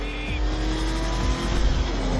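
The Batmobile in the Batman: Arkham Knight video game, driving fast with a loud continuous engine roar and tire noise, alone with no talk.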